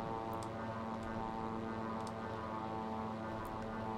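Propeller engine of an Aerosoft SeaRay amphibian in a flight simulator, throttled back to lower RPM, giving a steady droning hum with a strong tonal whine, continuous and close throughout.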